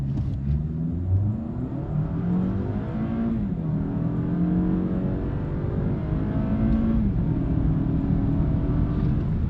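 A Lexus ES 250 AWD in sport mode launches hard from a standstill after brake torquing, its engine note rising steadily through the gears as it pulls toward 60 mph, loud and continuous from inside the cabin with no talk.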